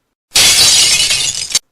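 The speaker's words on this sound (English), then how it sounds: "Losing their grip on the jam jar, it flew into the air before crashing down and smashing into 100 sharp glass splinters on the toilet's stone tiles." A glass jam jar hits stone floor tiles in a toilet and shatters, giving one loud bright crash and a brief spray of tinkling shards that stop abruptly after about a second, with no talking.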